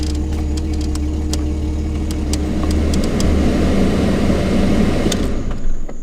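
A Jeep Cherokee XJ engine idles steadily to warm up with the heat running, a loud, even, low rumble close to the microphone that holds a constant drone throughout with faint ticking on top.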